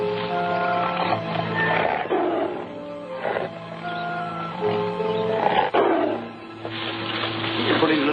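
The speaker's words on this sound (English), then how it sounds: "Big tiger." A big tiger roars and snarls in a jungle trap setting, loud and close, in repeated growling bursts across the clip with a music score underneath.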